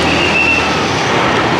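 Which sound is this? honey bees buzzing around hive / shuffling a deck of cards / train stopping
train stopping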